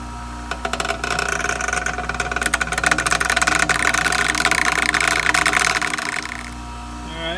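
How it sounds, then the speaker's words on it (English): A washer being ground flat on one side with a power tool, a loud steady buzzing rasp with a constant motor drone underneath, lasting about six seconds before fading to the idle hum. "try to shave off one side of the washer to have it flat"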